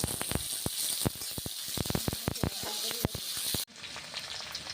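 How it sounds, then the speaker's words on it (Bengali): Bay leaf and chopped onion fry in oil in a kadai, a loud close sizzle broken by sharp clatters of stirring, cutting off abruptly near the end to a quieter hiss. "কড়াইয়ে আবার তেল ঢালা হলো, তেজপাতা দিলাম, পেঁয়াজ কুচি দিলাম"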